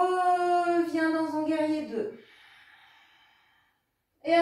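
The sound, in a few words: deep breathing during yoga warrior pose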